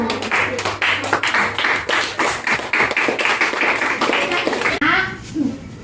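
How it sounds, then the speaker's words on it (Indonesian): Classroom of third-grade children clapping for group one, a lively scattered round of claps with a teacher's voice and children's chatter mixed throughout, ending abruptly. "tepuk tangan untuk kelompok satu"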